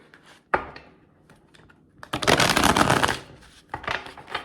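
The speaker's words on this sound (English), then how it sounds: "I'm going to shuffle one more time" Cards riffle-shuffled up close in a few bursts: a sharp snap, a long dense whirring riffle, then a shorter one, with quiet handling between.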